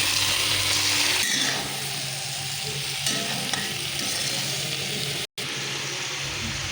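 Vegetables hit a hot pan of already-fried onion, green chili and garlic, setting off a loud, steady sizzle with stirring scrapes that settles into continuous frying, alone without talk.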